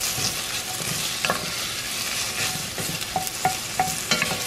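Onion and garlic sautéing in a little oil inside a Le Creuset Dutch oven, a steady close sizzle with occasional scrapes and stirring knocks from a utensil, no voices.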